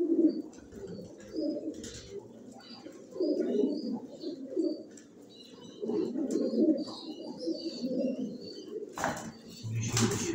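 Pigeons coo in low, rolling phrases nearby, with occasional chirps and a brief flutter of wings, while a person speaks intermittently.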